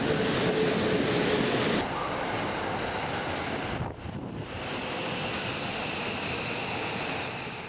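A train rumbles past at close range at a Tokyo station with a steady roar and hiss, briefly dipping, then continuing loud and even with wind noise.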